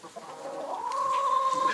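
A nearby chicken on a farm in Bhutan clucks, then draws out a rising, sustained squawk, heard clearly on its own.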